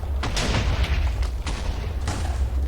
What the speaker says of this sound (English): Do a small explosion.